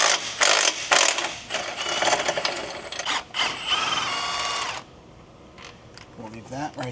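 A ratchet backs out the last bolt on the rear transmission bracket of a 1993 Honda Civic with a supercharged B18C engine, during a Spoon Sports race gearbox swap: close, rapid clicking bursts for about five seconds, then someone speaks briefly.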